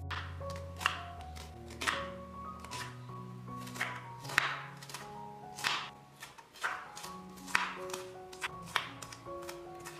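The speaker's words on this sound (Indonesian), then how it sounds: "Selanjutnya, aku mau cincang kasar bawang bombaynya." A knife coarsely chopping onion on a board: quiet, irregular tapping strokes repeat through the stretch under soft background music, with no speech.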